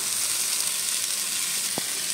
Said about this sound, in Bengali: এপিঠটা হয়ে গেলে আর এক পিঠ ভালো করে একটু ভেজে নেব